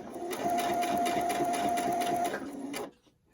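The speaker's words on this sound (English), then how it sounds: "even though this says that you can go over pins with this sewing machine, I just don't" A sewing machine stitches fabric for a cloth face mask in a fast, even mechanical run lasting a few seconds, then stops abruptly and leaves near silence.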